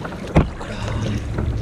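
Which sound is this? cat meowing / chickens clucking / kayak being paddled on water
kayak being paddled on water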